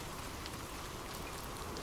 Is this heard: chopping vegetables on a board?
no